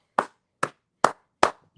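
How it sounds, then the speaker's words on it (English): Four slow, separate hand claps ring out close and clear at an even pace, each a sharp isolated crack with silence in between, a sparse clap rather than crowd applause. "let's give a round of applause for Chelsea Green"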